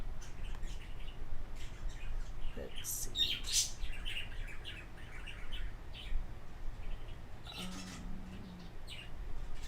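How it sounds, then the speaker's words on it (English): A pet bird chirps and gives a few sharp calls amid steady background noise, with a brief spoken remark. "My bird is so loud."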